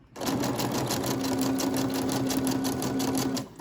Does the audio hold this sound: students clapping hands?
no